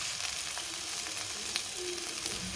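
Okra, onion and garlic sizzle steadily while being stirred in a frying pan, with occasional scrapes and clicks of the spoon over a continuous close hiss.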